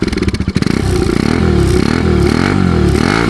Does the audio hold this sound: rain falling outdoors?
no